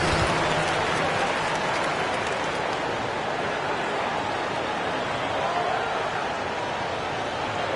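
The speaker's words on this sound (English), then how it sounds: "applause." Crowd applause and cheering fill a basketball video game arena, a steady dense wash of clapping that holds at an even level throughout without pause.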